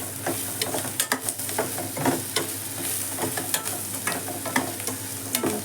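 Tomato bath with salt and turmeric being stirred in a pan, a soft sizzle under repeated scraping and tapping strokes of a spoon against the pan, irregular and close, with no talking.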